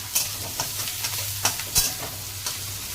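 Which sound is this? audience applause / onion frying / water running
onion frying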